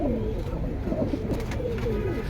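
Pigeons in a collection at a pigeon dealer's keep up a continuous, fairly loud throaty cooing, several birds overlapping in wavering low coos with no pause.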